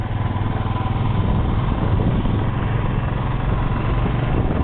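A motorcycle ride near Dandeli setting out from a hotel gives a loud, constant engine drone with a throbbing low rumble that holds steady throughout, and no one speaks.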